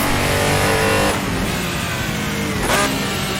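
A Porsche RSR race car in a racing simulator roars at full throttle, its engine note loud and steady, dipping briefly around a gear change before surging again as the car accelerates down a straight.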